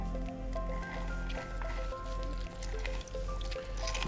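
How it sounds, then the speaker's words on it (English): Lime juice poured over raw snapper pieces in a dish, a soft wet squishy dribbling close by, with faint dull thumps and a low steady background. "Just gonna add the lime juice in, so it's heaps. So just so it covers the fish,"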